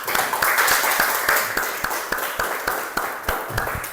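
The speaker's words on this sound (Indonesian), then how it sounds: "Kita berikan tepuk tangan untuk kita semuanya." Audience applauding at the close of a session, with dense clapping fading into scattered, sharper individual claps over a few seconds; a few voices may be faintly present.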